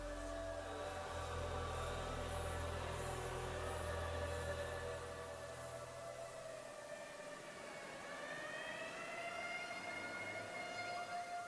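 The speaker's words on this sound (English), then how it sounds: "Meanwhile, the ambulance rushed to St." An ambulance siren wails steadily through the whole stretch with a rising and falling tone, loud and fairly close, heard alone over a low rumbling background.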